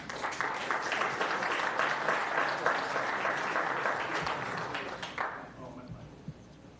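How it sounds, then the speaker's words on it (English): Audience applause at a school board meeting, a steady round of clapping at moderate volume that holds for about five seconds and then stops abruptly, leaving a quiet room with a few stray sounds. "Let's give him a round of applause"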